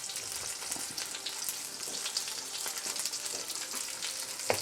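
Food sautéing in a pan on a lowered stove, giving a soft, steady sizzle with light stirring scrapes and a small knock near the end, fairly quiet and close.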